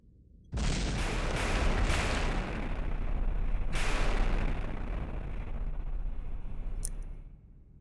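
A ship's gun firing in From the Depths: a heavy, booming blast with a few sharp cracks at the start, then a long roaring rumble that slowly fades.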